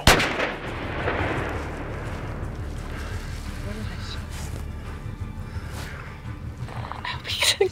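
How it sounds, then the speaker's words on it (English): A rifle shot is fired at a desert bighorn sheep during a hunt, a sharp loud crack near the start that trails into rumbling echo, with people talking quietly before and after. "Wait till you got a clear shot."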